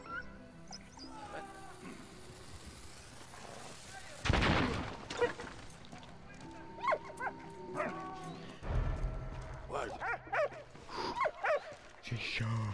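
In the World War I video game Valiant Hearts, a dog barks and yips in short bursts amid gunfire and battle noise, with someone talking over the game sounds.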